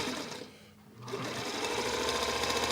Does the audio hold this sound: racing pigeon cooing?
no